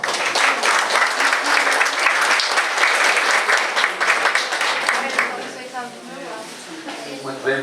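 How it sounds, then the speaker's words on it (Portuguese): Audience at a Spiritist seminar lecture gives a warm, dense round of applause to welcome a speaker to the stage, loud and sustained before tapering off as voices emerge near the end. "Vamos recebê-lo com uma salva de palmas."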